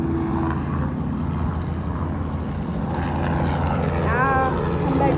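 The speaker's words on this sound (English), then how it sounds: "I got a helicopter." A helicopter's rotor and engine drone steadily and loudly from close by during a ride at North Myrtle Beach, with voices talking over the continuous noise.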